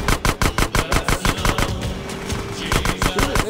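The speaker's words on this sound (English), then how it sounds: "Shoot out the gate!" Rapid bursts of automatic gunfire shooting out a gate in GTA San Andreas, loud and close, a fast rhythmic string of shots that thins briefly midway before picking up again.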